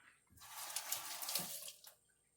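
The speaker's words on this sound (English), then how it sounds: "I'm going to add a little bit more water." Water pours steadily from a container into an outdoor setup with river rocks weighing down a red clover leaf and flower, a soft close splashing stream lasting about a second and a half before trailing off into drips.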